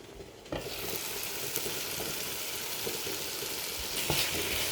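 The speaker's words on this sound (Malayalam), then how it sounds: "നന്നായിട്ട് ഇളക്കി യോജിപ്പിക്കാം" An onion mixture for Kottayam-style egg curry cooks in a pan, a steady close sizzle with brief scraping knocks as it is stirred, alone without talk.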